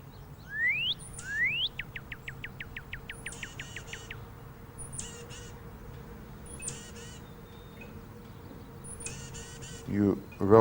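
Waxwing birds give a string of thin, high, trilling chirps, in quick rising bursts that then come in sparser clusters, fairly close. A voice breaks in briefly at the end.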